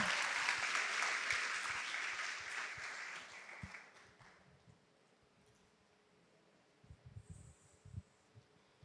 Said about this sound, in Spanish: recibámosle a todas con un fuerte aplauso